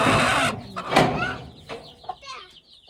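Chickens at a hen coop give a few short clucks and squawks close by after a burst of rustling, then the calls thin out into quieter scattered sounds.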